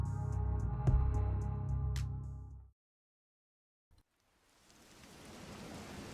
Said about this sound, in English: Hollywood looks different in the rain.